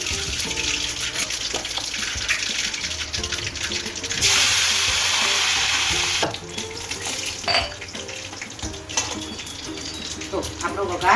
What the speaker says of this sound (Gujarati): જો હવે આપણા વઘારનું તેલ આવી ગયું છે, એટલે આપણે પહેલાં એમાં રાઈ ઉમેરી દઈશું. ત્યારબાદ રાઈ આવી જાય એટલે આપણે એમાં લીમડાના પાન મૂકીશું.